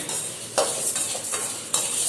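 Roasted lentils and dried chillies are tipped together into a large vessel, producing dry rattling pours and a couple of sharp clinks against the metal over a continuous rustle.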